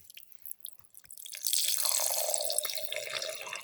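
Milk poured from a measure into a blender jar of a rice flake, cashew and banana smoothie mixture: a steady splashing liquid stream starts after a second of faint clinks and continues, fairly close and moderately loud.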